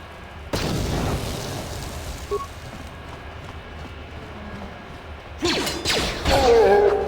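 A grenade goes off in the video game Star Wars: Knights of the Old Republic. An abrupt loud boom decays through a rumbling tail, then a second burst follows about five seconds later, with game effects after it and no talking.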